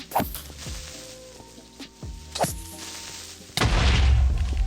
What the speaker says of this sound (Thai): มันระเบิดไปเลย